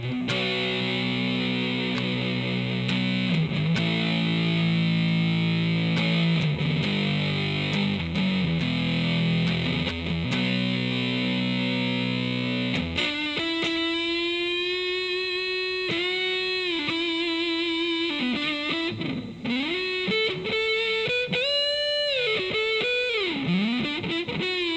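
Electric guitar played through an Electro-Harmonix Big Muff Pi distortion pedal, heavy fuzzy chords sustaining for several seconds and then bending single-note lead lines, loud and continuous with no talking.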